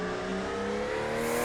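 A Porsche 964 engine in a racing video game revs hard with a steady rising whine and a strong harmonic drone, loud and close, with no talk over it.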